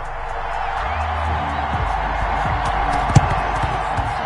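A stadium crowd in an American football video game with the Chiefs playing breaks into loose, scattered slow clapping over a steady crowd roar, with murmuring commentary beneath.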